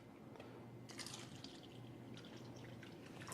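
Tap water is poured onto a tea bag: a steady, close trickle with light dripping and splashing that runs throughout.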